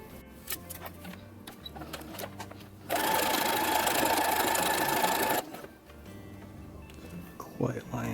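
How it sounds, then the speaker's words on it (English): A sewing machine runs a zigzag stitch on a Star Wars jumpsuit in one steady, loud burst of about two and a half seconds, with a person talking before and after. "Now we stitch these, zigzag, flip them over,"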